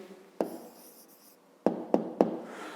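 Pen or marker writing down a math answer on paper, a faint scratching bed broken by four sharp taps, one near the start and three close together near the end, with no voices.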